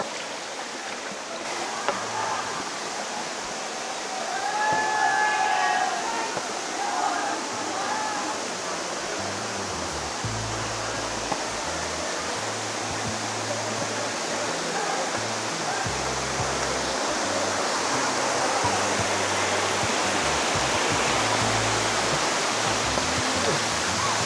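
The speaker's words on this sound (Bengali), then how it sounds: "ওকে, এটা হচ্ছে 2 নম্বর ঝর্ণা।" The second waterfall at Sitakunda, Bangladesh, makes a steady, broad rush of falling water that fills the whole clip. Birds chirp briefly early on, and low thumps sound intermittently underneath.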